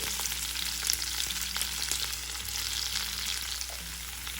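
Onions and green chillies fry in oil in a pan, a continuous close sizzle with small crackles and occasional stirring scrapes over a low steady hum.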